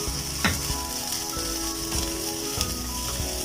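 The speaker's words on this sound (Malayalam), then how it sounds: "അതിന് മുന്നേ ജസ്റ്റ് ഒന്ന് അരി നെയ്യിലൊന്ന് മൂപ്പിച്ചെടുക്കാം." Washed rice roasting in ghee in a pan for prawn biryani, a continuous dense sizzle and crackle with occasional soft stirring scrapes, close and steady.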